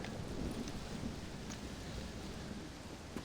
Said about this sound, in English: Well, it's just the storm, John.